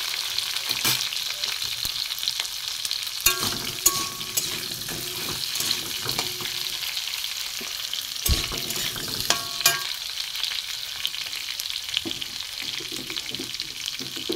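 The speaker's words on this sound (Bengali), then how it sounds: "আলুটা একটু ভেজে নিই।" Potato pieces frying in a pan, a continuous hissing sizzle with intermittent utensil scrapes and clinks against the pan, no voices.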